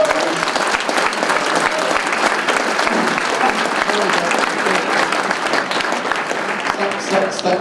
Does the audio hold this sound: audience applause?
yes